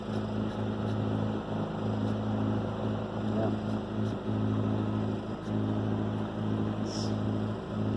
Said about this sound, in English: Just had a powerboat go that way